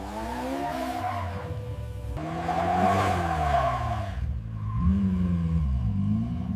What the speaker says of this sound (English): Listen to that rumble when it revs.